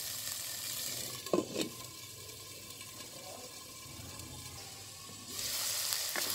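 Onions fry in a pan for a stuffed tinda dish, a soft steady sizzle with brief scraping stir strokes early on, then a louder hiss swelling near the end.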